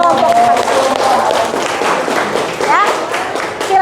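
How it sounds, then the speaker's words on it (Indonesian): Classroom applause for a group of students, a dense patter of clapping that runs throughout under continuing talk and movement in the room. "Tepuk tangan untuk kelompok 4."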